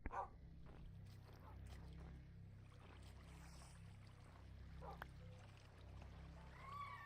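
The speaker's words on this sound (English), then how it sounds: "Dog's barking." A dog barks a couple of times at a distance, faint and brief against a steady low hum.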